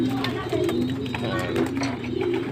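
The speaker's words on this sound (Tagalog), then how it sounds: "Nandito na naman po tayo sa ating mga alagang kalapate" Pet young pigeons in a loft cooing together: layered, throaty low coos repeating continuously and close, with someone talking over them.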